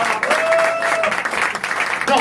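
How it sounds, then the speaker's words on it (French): An audience claps briefly at a live stand-up comedy show, a short burst of applause mixed with a voice speaking over it. "Applaudis, elle était bonne,"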